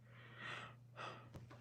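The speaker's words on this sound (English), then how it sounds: "tried my best not to yawn that time." A single person yawns close by with two drawn-out breathy swells, quiet and intimate, ending in a brief soft click, with no talking.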